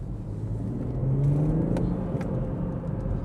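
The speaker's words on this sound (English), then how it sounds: "We'll do a little pull and see if we can get some engine cabin noise going on." Engine noise rises as a BMW M140i accelerates in manual mode, a deep rumble and whir filling the cabin from close by, with no talking.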